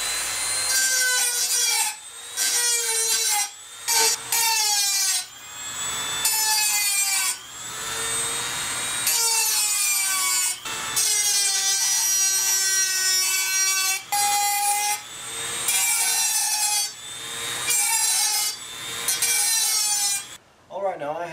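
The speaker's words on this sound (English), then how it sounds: "now I want to bevel the edge of the pin here so it slides in more easily" The edge of a metal pin is bevelled during a custom Yamaha Radian motorcycle build, with repeated rhythmic strokes of filing or grinding in close, loud bursts separated by short pauses.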